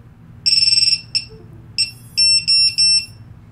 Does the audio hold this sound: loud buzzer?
yes